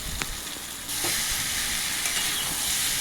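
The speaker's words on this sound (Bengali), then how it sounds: "নুডলসটা সবজির ওপর দিয়ে আমি ভালোভাবে এটা মিশিয়ে নিচ্ছি। বেশ কিছুক্ষণ ধরে এটা একটু ভাজা ভাজা মতো করে নেব।" Wai Wai noodles being stirred into vegetables in a hot pan, with a steady close sizzle and frying hiss that grows louder partway through, plus soft scraping of the stirring utensil and no talking.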